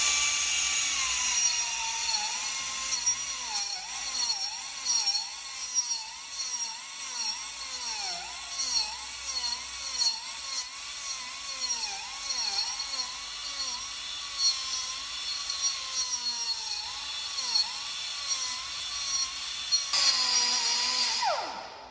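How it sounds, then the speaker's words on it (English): A high-speed grinder with a diamond wheel grinds tire steel. Its whine dips and recovers again and again as the wheel bites and eases in short passes, with a brief sharper burst near the end. "we're going to perform this with just one tool on a high-speed grinder to show how cool the tool runs"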